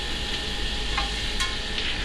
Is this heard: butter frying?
yes